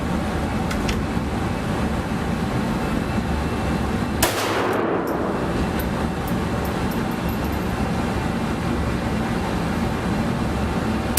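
A single handgun shot cracks sharply at an indoor shooting range, loud and close, with its echo decaying quickly amid steady background hum; no other shots follow.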